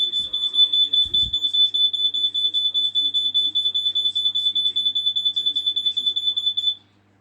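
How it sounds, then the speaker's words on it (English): A bedroom carbon monoxide alarm under test blares a loud, piercing, rapidly pulsing high beep almost without pause, with a faint thump early on, before abruptly falling silent near the end. "the carbon monoxide alarm is quite louder than expected"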